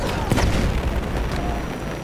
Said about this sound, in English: Throwing grenade! Watch it! Grenade out!